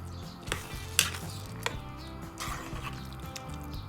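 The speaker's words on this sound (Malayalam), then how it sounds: "ഇനി ഇത് നന്നായിട്ട് ഇളക്കുക." Payasam with jaggery and ghee stirred in a pot, giving a few scattered spoon clinks and scrapes against the metal over a low, steady background.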